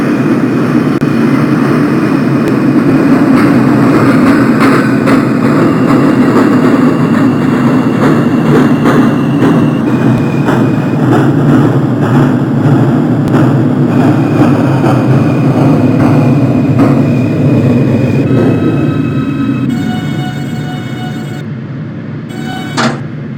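An R160 subway train on the J local line in the Openbve simulator runs loud and steady, with a rumbling rolling drone and a rising electric motor whine, then eases off near the end with bright door chime tones.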